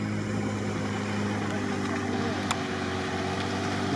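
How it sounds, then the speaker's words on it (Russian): Steady low engine drone of boats nearby, a constant motor hum with faint water noise and no speech. "Тут люди на лодках рядышком."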